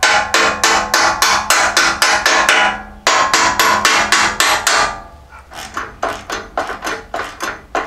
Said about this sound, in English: So I'm just going to tap these in.